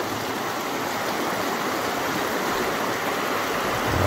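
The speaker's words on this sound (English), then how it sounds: "The sound of a babbling brook wants me to make me babble like a brook." A babbling brook of flowing stream water rushes steadily and close by, a dense, even wash of water noise throughout with no voices.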